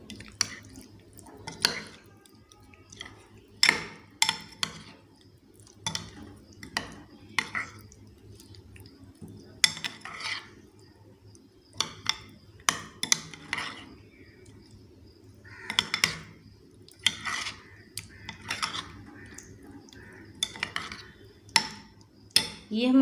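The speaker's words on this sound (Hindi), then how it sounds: "सारे मसाले ऐड करेंगे। अच्छी तरह मिक्स कर लेंगे।" Chicken is mixed with spices by hand in a bowl for chicken tikka boti, making repeated wet squelches and slaps in uneven bursts, with occasional clinks against the bowl.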